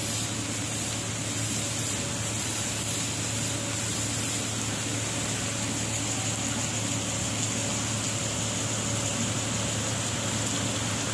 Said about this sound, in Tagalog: Humihina na yung ulan niya.